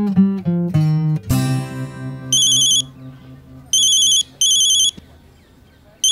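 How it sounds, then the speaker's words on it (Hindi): An electronic telephone ringtone in a Hindi TV sitcom sounds in three clipped, shrill bursts, following a few strummed guitar notes and a soft background underneath. "अन्ना साहब को फोन करती हूँ।"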